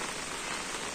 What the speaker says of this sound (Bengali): প্রচন্ড রকমের বৃষ্টি, ট্রিমেন্ডাস বৃষ্টি হচ্ছে